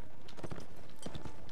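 Horses gallop in the medieval combat game Mount & Blade Warband, their hoofbeats a muffled, uneven clatter under a constant background din, with brief bursts of heavier trampling.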